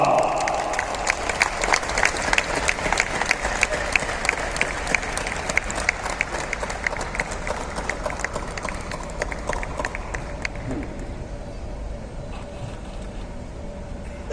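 Sustained, loud applause from an audience at the closing ceremony of the International Film Festival of India in Goa, continuous clapping that gradually thins toward the end.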